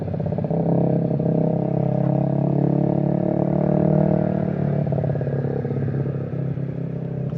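A motorcycle's exhaust drones steadily up close while riding, a loud continuous engine roar with slight swells in pitch through the ride and no voices over it.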